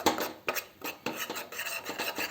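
Masala frying gently in a little oil in a pan on low heat, a soft rasping scrape of a spoon stirring in short repeated strokes, faint and close.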